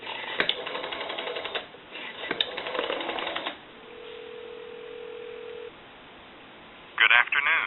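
A steady dial tone hums for a few seconds between bursts of clicks and dialing sounds on a converted Stromberg Carlson 2-1553 telephone, followed by a short ringing burst at the end.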